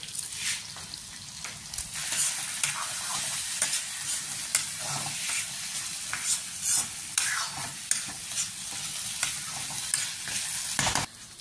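Pork frying with coriander in a pan gives a faint, continuous sizzle broken by frequent stirring scrapes and clatters, with no one speaking.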